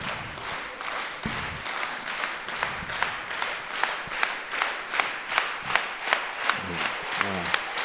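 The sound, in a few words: audience applauding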